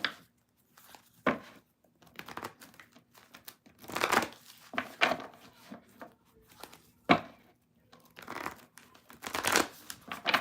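Tarot cards being shuffled by hand, papery crinkling riffles and soft slaps in irregular bursts, close and fairly quiet, separated by brief pauses.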